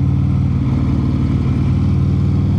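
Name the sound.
Harley-Davidson motorcycle with 135 ci crate engine riding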